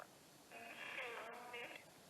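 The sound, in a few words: traditional radio switched on, static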